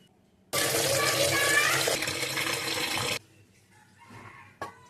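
Tap water gushes steadily for about three seconds to soak chicken meat for a spicy chicken pickle, then cuts off. Faint kitchen clatter follows, and a short sharp knock comes near the end.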